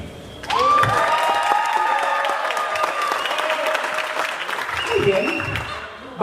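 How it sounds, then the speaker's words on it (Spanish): A crowd in El Salvador breaks into loud applause with shouts and cheers, mixed with other sounds and voices over several seconds, swelling briefly near the end. "si usted da un aplauso fuerte y un grito"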